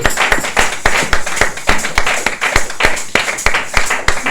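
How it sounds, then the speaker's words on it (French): A congregation claps for God during a pastor's birthday church service, many hands striking in a quick, fairly regular rhythm, loud and close with no voices over it. "Nous pouvons acclamer Dieu."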